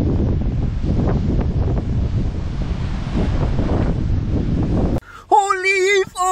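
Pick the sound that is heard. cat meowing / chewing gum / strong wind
strong wind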